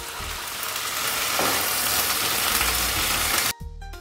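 Onions and two medium tomatoes fry in a pan, a loud, dense sizzle holding steady for several seconds before cutting off abruptly into a quieter low hum.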